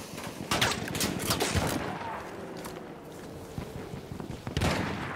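Sniper gunfire in the video game Battlefield 1, several sharp shots spread unevenly across the clip amid a busy battlefield din, some close and loud, others more distant.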